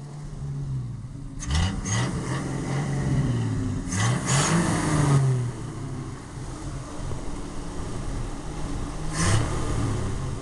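A 1968 Ford engine with points ignition revs in the rain, rising and falling through a few throttle blips over a steady idle, close and fairly loud with rain hiss behind.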